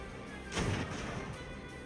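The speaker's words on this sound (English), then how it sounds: "Continuing to slam them in the side with our grape shot." In the Ultimate Admiral: Age of Sail naval game, a cannon fires grape shot at an enemy ship, a single loud booming blast that swells and then fades into a rumbling tail over ongoing background noise.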